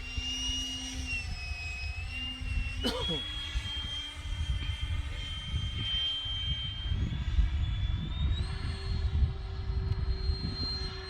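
A 95-inch radio-controlled FunScale F/A-18C model jet flies overhead with a continuous turbine whine that shifts in pitch, under rushing wind noise, while people talk nearby.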